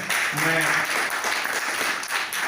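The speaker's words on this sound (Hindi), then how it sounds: "मैं चाहूंगा जोरदार तालियां बजाएं" A crowd at a book launch breaks into sustained applause, dense clapping that fills the whole stretch, with a voice briefly audible at the start.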